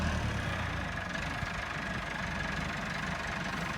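A 375 tractor engine idles with a steady, low, rumbling throb that stays even and fairly close, with no voices over it.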